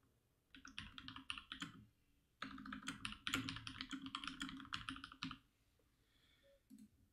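Close computer keyboard typing: two bursts of rapid keystrokes, the second longer and denser, separated by a short pause, with no talking.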